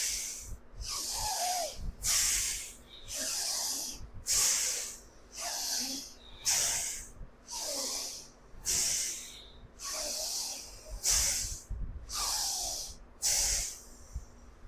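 Yoga breathing exercise with one nostril held closed, each breath pushed out hard through the nose as a hissing, snorting rush, repeating about a dozen times in a steady rhythm at close range with no talking.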